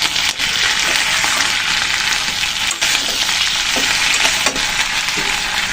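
Onion greens fry in a pan with a loud, steady sizzle and crackle. A few faint clicks and stirs sound through the hiss, and there is no talking.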